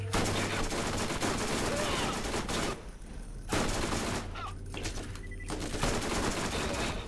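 Rapid gunfire from the video game Borderlands in a fight against sub-commanders of General Knoxx, with dense, sustained bursts that cut out briefly midway and then resume, loud and continuous.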